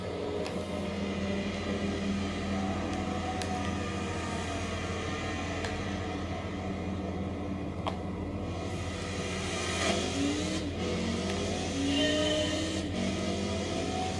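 Race car engines in Gran Turismo 5 drone steadily throughout, a continuous sustained roar with slight rises in pitch and a few faint clicks, no voices present.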